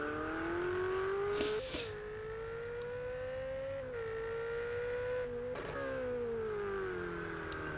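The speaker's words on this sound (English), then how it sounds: "I think the Ferrari is one of the better sounding cars in this game." A Ferrari GT3 race car engine in a racing video game howls at high revs, pitch climbing and dropping sharply through several gear changes, loud and continuous with no voices.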